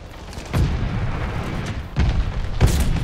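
BAR rifle shots in Call of Duty Vanguard, two or three heavy booming reports with rumbling tails, spaced about a second apart, loud and close.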